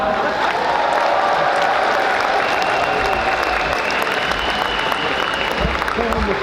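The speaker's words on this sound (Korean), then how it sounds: "서로 여러분 뜨거운 호응과 박수를 나눠주시기 바랍니다" A crowd at a Democratic Party Honam primary rally breaks into sustained applause, a dense, even wash of clapping and cheering that stays loud and unbroken throughout.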